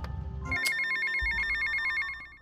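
A phone ringtone chimes repeatedly in GTA: Vice City, a steady melodic electronic ring pattern over low game ambience and engine rumble, with no talking.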